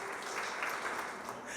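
Audience applause at a LIDE retail and franchising event in northwestern São Paulo state, honouring the LIDE Mulher vice-president, a steady dense wash of clapping across the whole short stretch with no talk over it.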